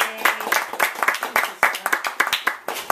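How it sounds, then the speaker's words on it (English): Scattered clapping welcomes Jackie onto a beachside show, a small group applauding with uneven, separate claps over about three seconds, fairly close, with a little background voice mixed in. "Give a round of applause for Jackie"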